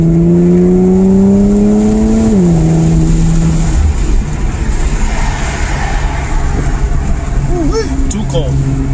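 An Infiniti Q50 with a Rev9 catback and PLM axle-back exhaust drives close by, its engine drone climbing and then dropping as it shifts, settling into a rumbling cruise with a few sharp clicks near the end.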